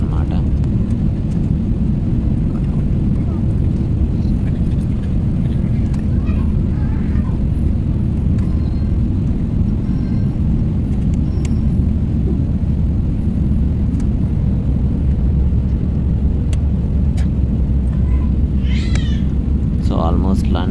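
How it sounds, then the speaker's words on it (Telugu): A steady, loud low roar of an airplane cabin during landing, continuous engine and air rumble throughout with no clear breaks. "సో ఆల్మోస్ట్ ల్యాండింగ్ పొజిషన్కి వచ్చేసాం. సో ల్యాండ్ అవుతున్నాం చూసినట్టయితే."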